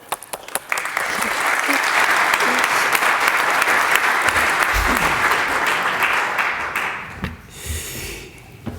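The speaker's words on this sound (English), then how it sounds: "Please give a huge round of applause." An audience at a welcome address applauds warmly, clapping building quickly, holding loud and steady for several seconds, then tapering off as a few close breaths and small noises follow.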